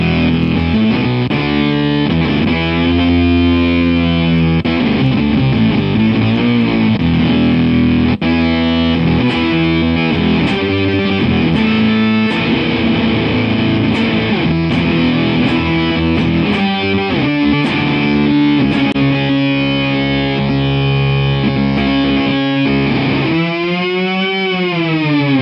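Electric guitar playing through distortion and fuzz effects layered together, with oscillation from an effects unit; a dense, sustained, loud buzzing tone with changing chords and sweeping swells for about twenty-five seconds, with no speech.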